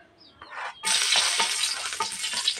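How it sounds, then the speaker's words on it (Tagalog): Garlic sautéing in a hot pan, a loud steady sizzle that bursts in after a brief clatter and continues with stirring scrapes, while home cooking for a family party. "Gisa tayo ng bawang"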